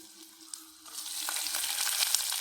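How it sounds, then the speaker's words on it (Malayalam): Ginger sizzles in hot oil in a pan for curd rice tempering alongside lentils, a soft hiss that swells and brightens after a moment with a few light stirring clicks, close and fairly quiet. "ഇനി നമുക്ക് ലേശം ഇഞ്ചി ഇട്ട് കൊടുക്കാം"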